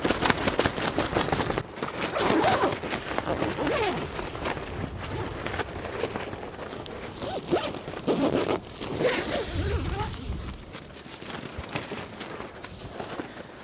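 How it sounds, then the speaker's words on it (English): A zipper on a car awning tent is pulled in long repeated rasping strokes, close and loud, with heavy wind buffeting the fabric while solo car camping in extreme winds. "I should probably just zip this up for safety reasons"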